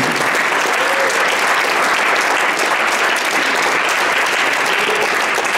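Steady, dense applause from a church congregation during a Spanish-language sermon, loud and continuous throughout with a faint voice briefly audible beneath the clapping.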